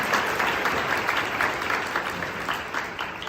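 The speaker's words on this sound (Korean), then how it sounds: "큰 박수 부탁드립니다." A large audience of students claps steadily in a school hall at a freshman welcome and appointment ceremony, a dense, even wash of applause throughout.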